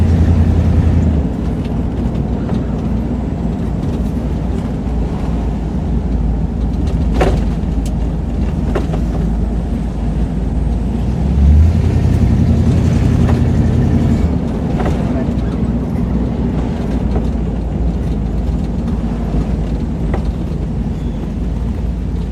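A Buick with freshly repaired brakes cruises around town, heard from inside as a steady low engine and road rumble that holds for the whole stretch with no clear talk.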